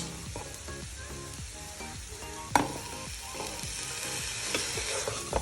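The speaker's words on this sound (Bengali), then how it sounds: "এখন দিয়ে দেব আদা রসুন বাটা" Ginger-garlic paste sizzling in hot oil in a pan for pulao, a dense close hiss broken by repeated scrapes of a stirring spatula and one sharp clack of the utensil against the pan.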